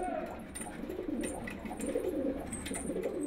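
Pigeons kept as pets coo in low, overlapping murmurs at the Sanliurfa bazaar in Turkey, a steady close chorus over busy market hubbub.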